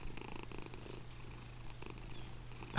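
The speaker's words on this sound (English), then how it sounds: "It's purring." A giant cat in the video game Only Up purrs in a low, steady rumble that runs the whole time, moderately loud and alone with no talk.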